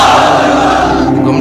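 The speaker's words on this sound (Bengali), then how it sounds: "সবাই মিলে তিনটা পড়েন লিল্লাহি তাকবীর" A large crowd at an Islamic religious sermon gathering chants the takbir together, a loud, sustained mass of voices filling the space without a break.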